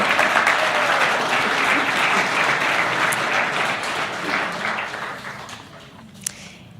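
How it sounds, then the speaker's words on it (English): Sustained audience applause fills the room at a community recognition event honoring local volunteers, loud and steady before thinning out toward the end with a few scattered claps. "A big round of applause for my team."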